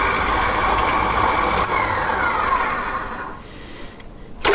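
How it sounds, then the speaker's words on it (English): An electric mixer beats vegan peanut butter cookie dough, a loud steady motor whir that fades near the end before a final bump, no talking. "we're going to beat this until it's all combined"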